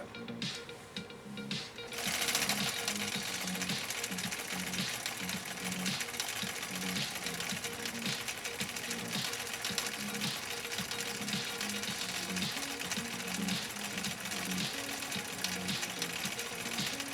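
A 1962 Husqvarna Viking Type 21E sewing machine stitches with cam B on stitch 3. It starts after a brief quieter moment, then runs in a steady, close, rhythmic mechanical chatter that continues to the end.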